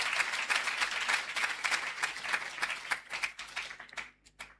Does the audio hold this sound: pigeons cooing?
no